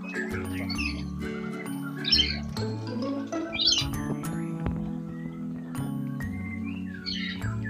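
Straw-headed bulbuls (cucak rowo) at a songbird breeding farm give repeated squawks and chirps in short bursts. The calls are fairly close and stand over a steady low background hum.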